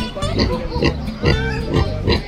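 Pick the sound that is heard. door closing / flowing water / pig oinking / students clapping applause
pig oinking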